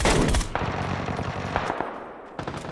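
Video game gunfire in PUBG hardcore mode: loud, dense automatic bursts from several shooters, heaviest at the start and then continuing as scattered shots and short volleys, some close and some farther off.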